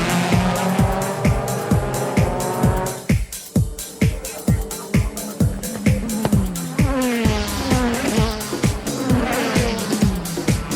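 GT500 class race cars, Nissan Zs among them, one Z on intermediate tires leading, roar past in rapid succession, a dense stream of loud engine passes with rising and falling pitch and occasional tire squeal.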